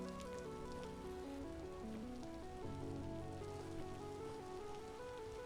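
Hail falling in the video game Vintage Story patters as a steady, soft crackling wash of ice pellets, faint and continuous beneath layered droning background music.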